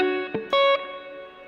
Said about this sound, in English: I'm going to kick it up with a bigger reverb.